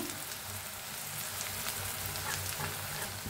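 Onion, garlic and green chilli frying in a pan, a steady close hiss of sizzling oil with faint stirring sounds, no voices.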